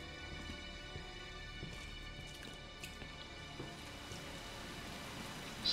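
Steady rain in the Resident Evil 2 video game, water pouring through a broken window, a constant dense patter with scattered drips, even and moderately close with no talk.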